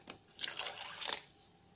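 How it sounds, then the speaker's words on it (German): Water poured into dry low-carb pizza dough ingredients, a brief soft splashing trickle lasting about a second, close and quiet. "und dann kommt schon das Wasser dazu"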